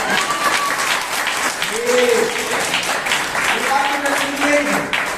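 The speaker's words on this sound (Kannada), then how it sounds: "ಚಪ್ಪಾಳೆ ತಟ್ಟಿ ದೇವರನ್ನ ಮಾಡಿ" A church congregation claps during a Sunday sermon, sustained applause from a roomful of hands that rises and falls over several seconds.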